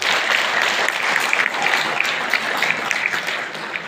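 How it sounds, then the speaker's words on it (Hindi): An audience at a farming talk clapping for themselves: steady, fairly loud applause from a crowd, a dense wash of claps that stays even and tapers slightly at the end. "चाहूंगा एक बार प्लीज आप अपने लिए क्लैपिंग करें"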